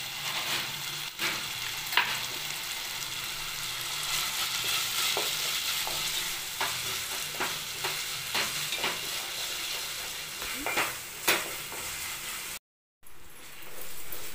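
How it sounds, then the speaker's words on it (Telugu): Ginger garlic paste frying in a pan for a chicken curry, a continuous close sizzle marked by sharp spatters and the scrape of stirring, then a brief silent gap near the end before the sizzle resumes. "అల్లం వెల్లుల్లి పేస్టు పచ్చి వాసన పోయే వరకు వేపుకుందాము"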